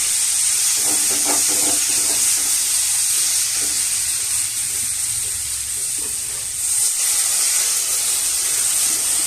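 Water poured into hot oil while cooking muri ghonto sets off a loud, steady, close sizzling hiss that holds evenly for several seconds, with no talking.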